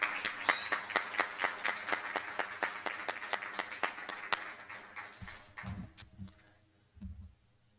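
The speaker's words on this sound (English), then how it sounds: "And one more round of applause," A modest audience at a school board meeting claps in a sparse, fairly even rhythm of distinct hand claps that thins out and stops, followed by a few low thumps and shuffles.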